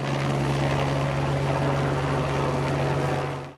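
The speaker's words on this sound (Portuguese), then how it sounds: "Do alto, o apoio do helicóptero da Polícia Militar." A Military Police helicopter flies overhead during a search through mud and debris after a landslide, its rotor drone loud and steady for the whole stretch, with a strong low hum that holds without a break.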